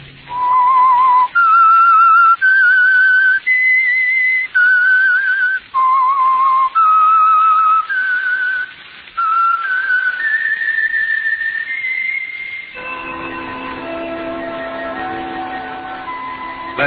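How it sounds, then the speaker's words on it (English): The signature whistled theme of the old-time radio drama The Whistler: a lone, loud whistler carries a stepped melody of sustained notes with brief gaps, then fades under a softer orchestral chord at the end. "Let that whistle be your signal for the signal oil program, The Whistler"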